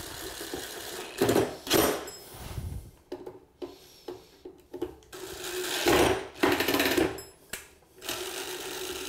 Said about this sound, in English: And then you can finish with the drill.